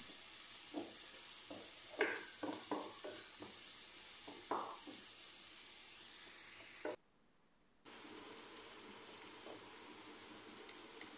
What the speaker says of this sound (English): I will stir until they are cooked I don't want them to be so brown